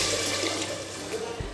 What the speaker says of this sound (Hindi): मैं इसमें अब पानी डालूँगी।